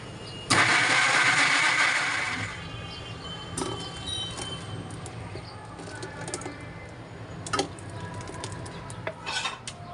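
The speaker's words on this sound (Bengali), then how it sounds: "প্রথমে কেটে রাখা টমেটোগুলোকে আমি একটু ব্লেন্ডার করে নেব" A kitchen blender whirs loudly for about two seconds, pureeing chopped tomatoes into a smooth paste, then stops and gives way to light clinks of dishes and utensils.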